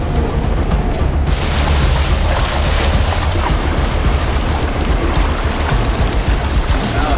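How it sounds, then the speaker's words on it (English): A Bedford truck fords a creek on a jade-mining expedition, a loud continuous rush of splashing water and engine roar with wind buffeting the microphone throughout. "Here we go for our first creek crossing."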